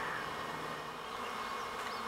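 A swarm of honey bees hums in a dense, steady buzz, fairly faint and unbroken, with no voices over it.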